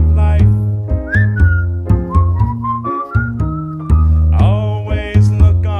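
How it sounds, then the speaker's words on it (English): Someone whistles a tune, loud and close, with a bouncy melody of short notes and sliding pitches, alone without talk. "Just purse your lips and whistle, that's the thing."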